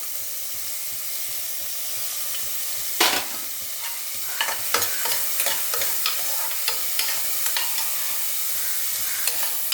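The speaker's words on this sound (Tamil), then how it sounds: "சேர்த்துட்டு நம்ம நல்லா கலக்கி விடணும்." Chopped onion sizzles in hot oil with mustard seeds while being stirred, steady frying hiss under repeated scraping and clinking of the spoon against the pan, close and continuous with no voices.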